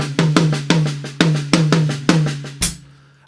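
Drum paradiddle played on sticks with every right-hand stroke accented and softer left-hand notes between, a steady run of sharp hits with ringing tone, ending on a crash and a fading tail; close and loud, no talking.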